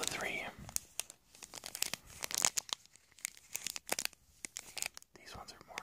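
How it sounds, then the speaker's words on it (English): A crinkly Pokemon Dragon Vault booster pack wrapper is torn open up close in a quiet ASMR setting, with sharp, rapid tearing and crinkling bursts of plastic foil and soft whispering between them. "These ones are more crinkly than the last pack I opened."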